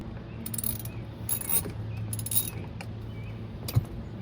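A ratchet clicks as it backs a 10mm bolt out on a 2007 Chevy 2500HD Duramax during a tow mirror install, with short metallic ratcheting bursts over a steady low hum.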